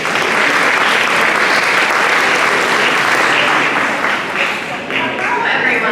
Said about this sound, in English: if we can give a round of applause for Bianca